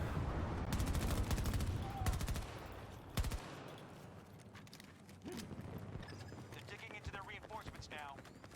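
Rapid gunfire in Battlefield 2042, with dense bursts of automatic shots early on that thin into scattered single cracks, while someone talks over the shooting.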